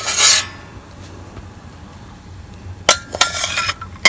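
A spoon scrapes and clinks against a metal pot while jaggery, blended cardamom and sugar are stirred together for bundi laddu, with a brief rasping burst at the start and a cluster of scrapes and taps near the end.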